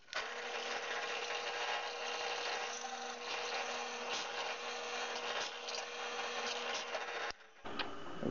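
A Forstner bit boring a flat-bottomed hole part way into a wooden board, a steady loud drilling whine and hum that holds for about seven seconds, dips briefly and returns, with no voices.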